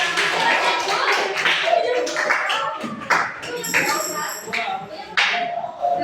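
A group claps in scattered applause in a middle school classroom, the claps irregular and mid-distance, with voices talking over them.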